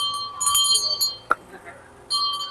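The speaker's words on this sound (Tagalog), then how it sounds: "May malaki na akong bell." A large new bell rings at a birthday celebration in bright, shimmering bursts, with a pause and a single sharp strike before it rings again. People talk over and between the ringing.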